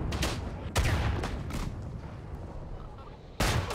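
In the World War I shooter Isonzo, a grenade blast and battlefield gunfire erupt as heavy, booming shots and rumbling explosions, loud and close, with dense background fire between the bursts.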